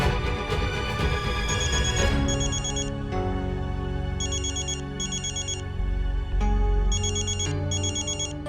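A mobile phone ringtone sounds in repeated bright, melodic bursts, fairly loud, over a low background of music-like tones in a domestic drama scene.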